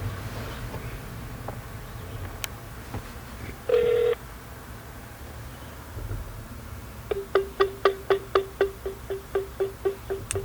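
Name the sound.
telephone ringing on Google Voice call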